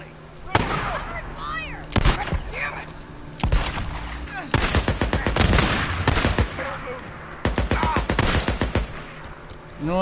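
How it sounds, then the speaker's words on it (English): Gunfire in the video game Days Gone: sharp bursts of shots in clustered volleys, some rapid strings like automatic fire, spread across the clip with a few quieter gaps between loud salvos, with no talk. "I shot you with a fucking pistol."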